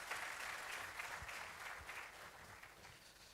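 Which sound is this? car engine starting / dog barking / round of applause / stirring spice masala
round of applause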